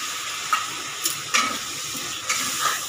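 Cauliflower curry sizzling in a pan with water added, a steady hiss of frying broken by several sharp scrapes of a spoon stirring, close and alone.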